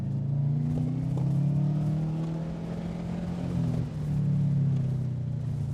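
A rebuilt Subaru WRX engine on an autocross course, droning close and steady as the pitch sweeps up and down, with a brief dip in revs midway before it pulls again.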